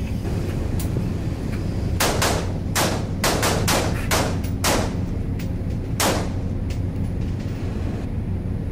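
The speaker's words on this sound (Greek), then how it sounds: "Ετοιμαστείτε για ρήψη προειδητικών βολών." Warning shots fired from a vessel during a maritime security officers' drill at sea: a quick burst of about eight sharp reports, then a single later shot, moderately distant over constant engine and wind rumble, no talk.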